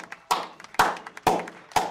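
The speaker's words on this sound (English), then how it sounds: "The crowd went wild" Sharp bursts of clapping from a poker tournament crowd, four loud hand-clap hits spaced roughly half a second apart with softer patter between them, close and dry.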